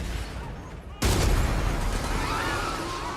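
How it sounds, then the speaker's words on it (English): Explosions and gunfire from a battle scene in the TV series The Expanse, season 6: quiet rumble, then a sudden loud blast at one second followed by sustained dense crackling gunfire and booms. "There's explosions going off everywhere."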